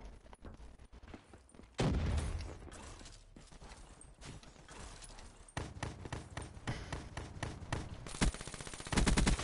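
Gunfire from a KN-44 assault rifle in Black Ops 3 multiplayer, coming in repeated loud bursts with short gaps between them and a dense rattle of shots near the end.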